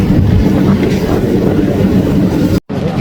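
A steady, loud rumble of a train rolling along the rails, continuous throughout with a brief dropout near the end.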